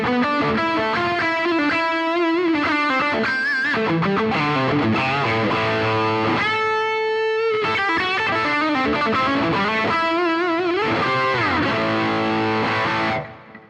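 Les Paul electric guitar played through a Synergy SYN30 amp with a thick, distorted 80s-style tone, a continuous run of riffs and sustained bent notes, loud and close, with no talking.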